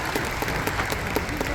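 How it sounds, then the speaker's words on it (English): A short stretch of steady audience applause, many hands clapping together in a dense, even patter. "please, big round of applause"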